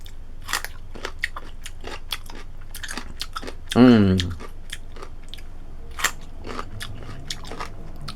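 A person bites into a homemade refrigerator pickle, a crisp crunch amid repeated faint chewing and small crackles; a brief voiced sound from the eater stands out in the middle, while no words are spoken.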